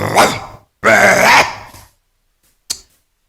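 A voice imitates several dogs growling and snarling over food: two loud, rough bursts, then a brief sharp snap after a pause.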